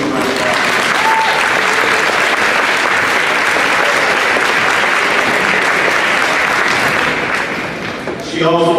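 Audience at a high school athletic signing celebration applauds steadily for about eight seconds, a dense, sustained wash of clapping that tapers off at the end as a voice begins to speak.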